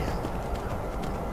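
Horse hooves clip-clop steadily in Skyrim, a continuous rapid trotting patter with no talking over it.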